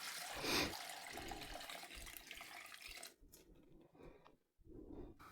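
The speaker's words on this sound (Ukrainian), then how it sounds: "Заливаємо водою." Tap water pours into a pot holding ears of sweet corn, a steady broadband rush close to the mic for about three seconds, then thinner splashing with a brief gap before the flow resumes.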